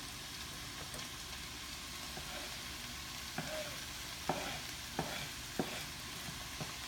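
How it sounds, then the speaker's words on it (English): Bok choy is stirred and sautéed in a pan: a faint, low sizzle runs throughout, broken by several sharp utensil clicks and scrapes in the second half. No one speaks. "Again, just continue to stir and saute."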